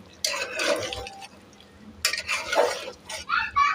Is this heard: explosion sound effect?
no